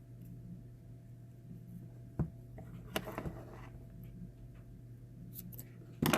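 Scissors snip through excess double-sided paper tape while building a dollhouse baby swing: a few sharp, close cuts spaced a second or so apart over quiet room tone, ending with a quick double snip.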